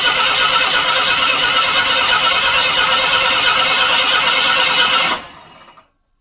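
A Jeep CJ7 engine cranks over loudly and steadily for about five seconds, then cuts off abruptly and fades to silence; no one speaks.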